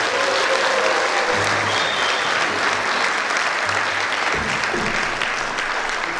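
A lecture audience breaks into sustained, dense applause after a special talk by a Rotary Korea advisor, the clapping steady and full throughout with a crowd-wide wash of sound.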